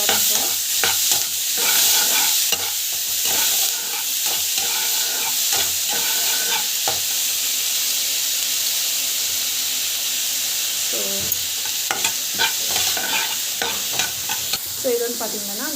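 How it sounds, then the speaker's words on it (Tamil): Onions and green chilies sizzle steadily in hot oil in a pan while a spoon stirs them, a continuous frying hiss broken by frequent scraping and clinking strokes. "காஞ்சி பிறகு வெங்காயம், பச்சை மிளகாய் போட்டுக்கிறோம்."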